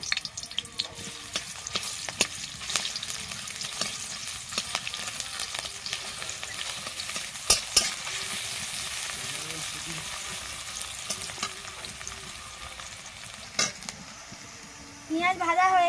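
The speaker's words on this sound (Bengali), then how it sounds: "তেল গরম হয়ে গেছে। এবার পেঁয়াজ কুচিটা এর মধ্যে দিয়ে দেব।" Chopped onion fries in hot mustard oil, a steady close crackling sizzle with occasional sharp clinks and scrapes of a spoon, and a brief rise of other noise at the very end.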